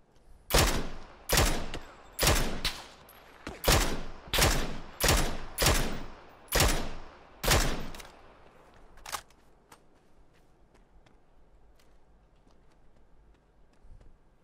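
Gunfire in the battle royale PUBG on the Erangel map: about a dozen sharp, loud, evenly spaced shots crack out one after another, then a last isolated shot and faint distant pops trail off into quiet.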